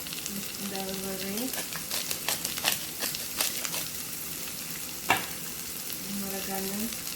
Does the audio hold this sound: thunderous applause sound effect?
no